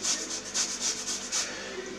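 Sugar, brocciu cheese, alcohol and citrus zest get mixed together in a bowl, giving a rhythmic series of soft rubbing, scraping strokes up close.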